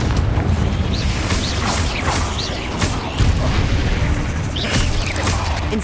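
Repeated Confringo spell blasts in Hogwarts Legacy, loud booming bursts landing every second or so amid steady combat noise and magical crackle, with no talk.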